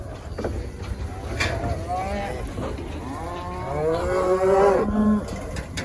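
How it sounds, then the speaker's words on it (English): Cows moo as they walk back to their calves on a ranch, with several long, drawn-out calls rising toward the end over quiet outdoor background. "Okay, so there's some cows. Hopefully they just walk right to their calves."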